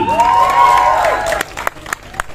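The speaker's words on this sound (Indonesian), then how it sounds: "kita berikan tepuk tangan untuk kreator film pendek Makmum, Riza Pahlevi" An audience at a film event bursts into applause and cheering for a short-film creator, a loud crowd roar with a rising shout that fades into scattered claps.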